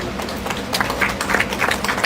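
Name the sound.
audience clapping for a child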